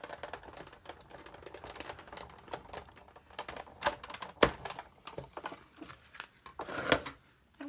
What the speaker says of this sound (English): my embossing folder and run it through the Big Shot, just like you would normally.